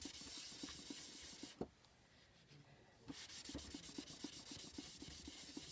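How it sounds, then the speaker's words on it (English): Wax being buffed into wood with a napkin, a faint, steady rubbing with quick repeated strokes, briefly pausing midway before resuming, no talking. "Just buffing a little bit of wax in."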